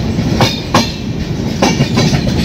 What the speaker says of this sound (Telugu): మళ్ళీ ఇప్పుడే ట్రైన్ స్టార్ట్ అయిందన్నమాట.